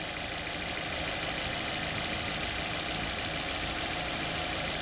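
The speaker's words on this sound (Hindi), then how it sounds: "अब आप देख लीजिए गाड़ी चालू है, इसके बावजूद भी इसकी आवाज़ सुन लीजिए।" A car engine idles with the air conditioning off, giving a steady, unbroken mechanical hum and rumble, close and moderately loud, with no one speaking.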